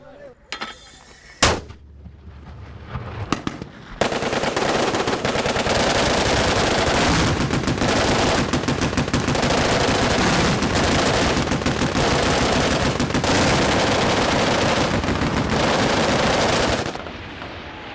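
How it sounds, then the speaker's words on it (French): Soldiers in Afghanistan fire machine guns in a long, loud, sustained burst of rapid automatic gunfire that runs for about twelve seconds, after a few scattered shots and thumps, then cuts off abruptly. "Après avoir vidé leur chargeur pendant quelques secondes"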